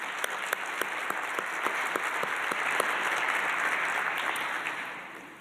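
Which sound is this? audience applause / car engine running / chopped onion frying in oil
audience applause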